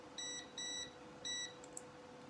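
Three short high electronic beeps from a multimeter in continuity mode as a fuse on a Kawasaki Bayou ATV is tested, quiet and evenly spaced, followed by faint clicks.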